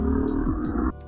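A spoken word pitched down into a deep, buzzing bass tone swells and wobbles for about a second before cutting off abruptly, with brief hissy noises on top.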